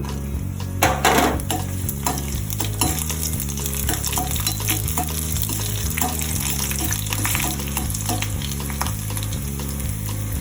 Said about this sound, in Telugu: ఇవన్నీ బాగా ఫ్రై కావాలి